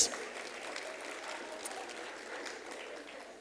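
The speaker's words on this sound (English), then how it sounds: "Let's give them a round of applause" Audience applause at an awards evening, a steady mid-distance patter of many hands clapping with a faint murmur of crowd voices underneath.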